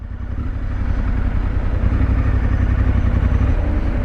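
A 2022 Triumph Scrambler 1200 XE motorcycle engine runs steadily while riding, a loud, continuous low throbbing drone with mechanical clatter and no talking.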